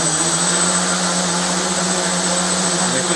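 Gaui 330X RC helicopter spinning its rotor up with strong throttle, a loud, continuous whirring motor-and-blade drone heard close, with no talk.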